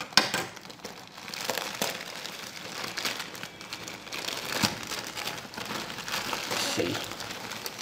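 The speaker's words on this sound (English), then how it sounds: "So first let us unbox the controller." Close, soft crinkling and rustling of plastic packaging as a green camouflage PS4 controller is unboxed, continuous irregular handling noise at low volume.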